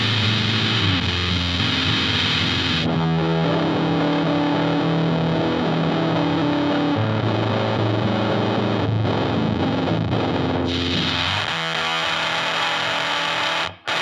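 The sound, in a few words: full garage rock fuzz guitar tone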